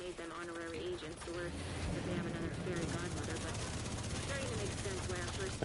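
In a video game, a drone approaches amid rapid machine-gun fire and heavy battle noise, with a steady droning hum under dense shooting and other game sounds throughout.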